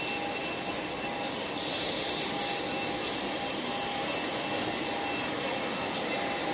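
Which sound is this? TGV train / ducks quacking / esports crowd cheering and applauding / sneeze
TGV train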